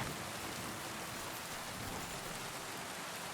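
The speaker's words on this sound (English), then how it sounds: "I love the weather effects. There's fog, there's rain, there's thunderstorms" Steady, dense rainfall in the Kingdom Come Deliverance 2 video game, a continuous quiet hiss of rain with no distinct thunder claps and no talk.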